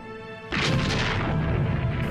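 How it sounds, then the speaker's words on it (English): A light breech-loading falconet cannon from the Spanish conquest of Mexico fires once with a sudden heavy boom after a brief lull, followed by a sustained rumbling roar that fills the rest of the clip. "These are falconets, light, breech-loading artillery."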